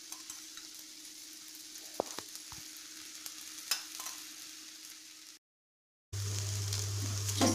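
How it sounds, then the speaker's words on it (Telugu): Rava dosa frying in oil on a hot pan, a soft steady sizzle with a few light scrapes and taps, briefly cutting out before a louder, fuller sizzle returns. "ఇప్పుడు దీని మీద కొంచెం ఆయిల్ వేసుకోవాలి"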